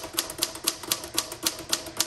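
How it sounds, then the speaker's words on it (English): A 1954 Royal HH manual typewriter, repainted, types in a quick, even run of about nine sharp keystrokes, each one a crisp, close clack with no voices over it. "It's still typing very well."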